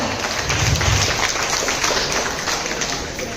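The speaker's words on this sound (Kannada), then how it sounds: "ದೊಡ್ಡ ಚಪ್ಪಾಳೆಯೊಂದಿಗೆ ಸ್ವಾಗತ ಸುಸ್ವಾಗತ" Audience applause at a music concert, a dense steady wash of many hands clapping that fades slightly toward the end.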